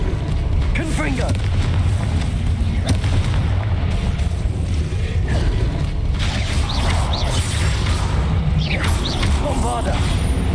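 Fiery Confringo spell blasts in Hogwarts Legacy boom over a constant loud rumble of game combat, with bursts and mechanical crackles recurring throughout while voices talk over them.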